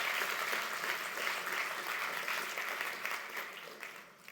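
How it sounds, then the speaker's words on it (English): Applause fills a conference plenary session hall, a continuous, fairly faint wash of many hands clapping that thins out toward the end. "I think it deserves applause"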